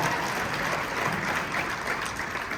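Audience applause at a Queen Mary Dark Harbor panel during Midsummer Scream 2024, a steady wash of clapping held at even loudness from start to finish with no pauses.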